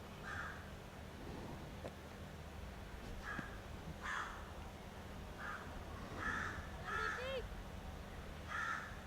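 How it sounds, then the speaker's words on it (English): A crow at a cricket ground during a women's international match gives a series of harsh caws, spaced irregularly and fairly close, over a low steady background hum and faint ambient noise. "Sounded like a noise in my ear. That was the crow."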